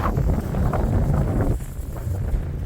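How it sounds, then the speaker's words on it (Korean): Strong wind buffets steadily outdoors on a Japanese angelica tree farm during seedling planting, a constant low roar with no voices. "아 정말 바람 세네요"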